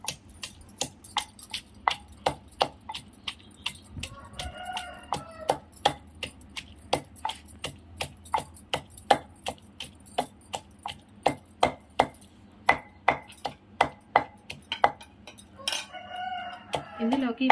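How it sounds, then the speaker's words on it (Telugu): Guava chutney ingredients with fried green chilies and cumin are pounded in a stone mortar, giving a steady series of close, sharp thuds, while a rooster crows twice in the background. "బాగా దంచుకోవాలండి."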